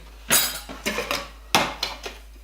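Camping cutlery, a spoon, bowl and plate, handled and set down, giving a few separate clattering knocks and clinks in two short clusters, close and moderately loud.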